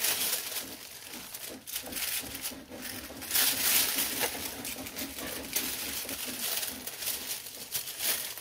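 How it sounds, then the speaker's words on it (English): Scissors snip through craft paper on a tabletop, a steady run of close crisp cuts and rustles mixed with paper crinkling, with no talk. "I'm cutting weird because I'm not wanting to lift the paper"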